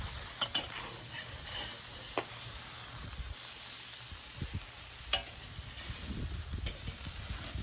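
Burgers sizzle steadily on a Weber kettle grill just after being flipped, with a continuous hiss and scattered pops and light clinks from the grates.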